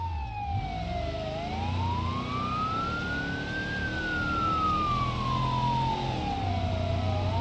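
Wailing police sirens in the game BeamNG.drive rise and fall steadily over a low engine rumble, loud and continuous with no talking.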